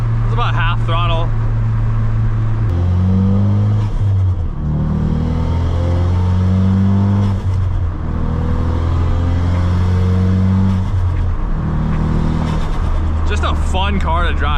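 A 450-horsepower Ford Focus RS revs at about half throttle, its loud, close engine note climbing and dropping in repeated steps, with a crackling burble at the start and end.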